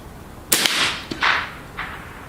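A WZ-48 .22LR military trainer rifle fires high velocity rounds, giving two or three sharp, fairly quiet cracks spaced under a second apart, each with a short, bright tail.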